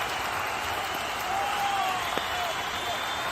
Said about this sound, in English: And you can hear the roar in the backdrop. Crowds are absolutely engaged in this one chase.